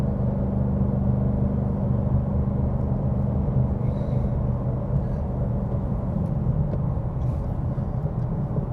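A Ford Mustang Bullitt cruises along from inside the cabin, its engine a low, steady rumble with constant road noise and no voices.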